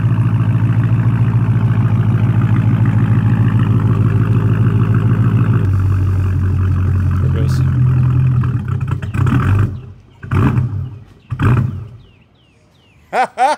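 A Dodge Charger Hellcat with its fuel pump disabled cranks over, making a loud, continuous, churning drone for about nine seconds before it breaks into several short, separate bursts.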